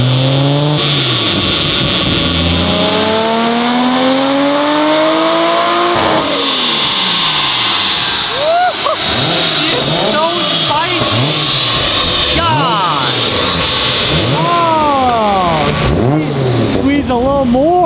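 A Nissan R32 GTR running on 91 fuel revs hard and close, its engine pitch climbing in long sweeps and then dropping in quick repeated blips, loud and steady throughout.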